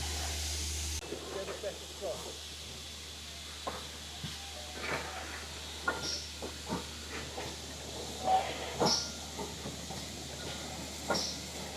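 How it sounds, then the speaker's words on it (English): Distant rail yard ambience with steam hissing in bursts and occasional clanks as a heritage steam train is shunted slowly round to the other side of the track in Cornwall, faint and spread out. "footage of the train as they shuffle it round to the other side of the track"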